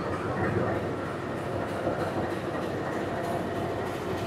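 The KA Pangrango passenger train rumbles steadily at a station on the Bogor-Sukabumi line, a low continuous drone with faint mechanical rattling and distant background activity.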